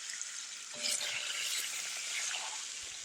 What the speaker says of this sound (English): About to sizzle